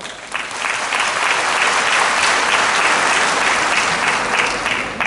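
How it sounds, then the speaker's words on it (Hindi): Audience applause at a rural development and Panchayati Raj ministry event, a sustained, loud, dense clapping that fills the whole stretch with no pauses. "सही किया तो ताली बजाओ।"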